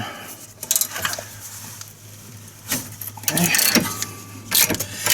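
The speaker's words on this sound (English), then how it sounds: "So 15mm, 3/8 inch ratchet." A 3/8-inch ratchet turning a 15mm bolt during rear brake pad and rotor work on a Chevy Equinox, heard as uneven bursts of metallic clicking and rattling up close, with no talking.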